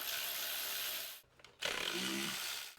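A power tool or ratchet whirs as 12 mm bolts come off the upper intake manifold of a Honda Pilot, a sustained buzzing run, a brief pause, then another close, loud spin.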